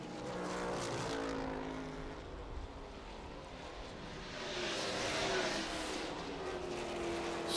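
Ford Mustang TA2 race car at Laguna Seca climbing the hill toward the corkscrew, a steady loud engine drone that swells toward the end, with commentary talking over it.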